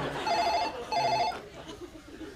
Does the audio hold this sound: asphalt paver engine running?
no